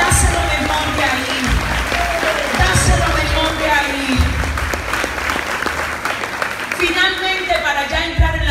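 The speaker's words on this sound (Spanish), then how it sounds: "Y les dar un aplauso fuerte al Señor." A church congregation at a Spanish-language service bursts into loud, sustained applause with scattered cheers, the clapping dense and continuous while voices rise over it.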